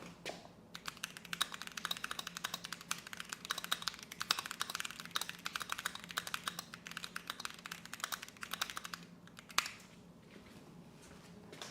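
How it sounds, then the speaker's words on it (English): Rapid continuous typing on a creamy-sounding computer keyboard, dense soft clacks close to the mic for most of the stretch, ending in a single sharper key press before it goes quiet. "It also captures the creamy keyboard."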